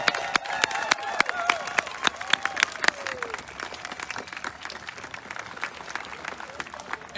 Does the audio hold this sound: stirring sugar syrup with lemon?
no